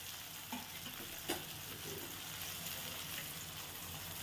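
Tomatoes cooking down and nearly melted in a pan give a gentle steady sizzle, with a few soft stirring knocks and scrapes near the start and no voices.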